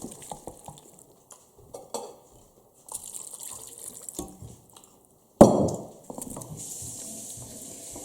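Water poured into a pot of red beans, chili-style, headed for a pressure cooker: quiet clinks and drips, then a sudden splashing gush that trails into a steady trickle.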